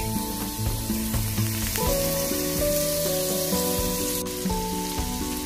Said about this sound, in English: So here's all my meat. Cooking up nice and good.